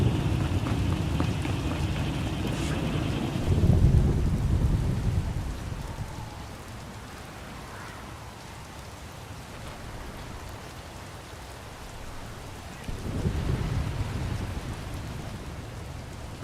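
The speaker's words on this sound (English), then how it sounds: "Hard to track them through the storm. Rain's wiped out the trail." In the video game Star Wars: The Old Republic, steady rain pours down with a deep thunder rumble swelling early on, then easing into constant patter before another low roll of thunder near the end.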